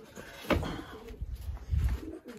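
Low, soft pigeon cooing rises and falls a few times close by in a pigeon loft, with rustling and faint background noise, and no one speaking.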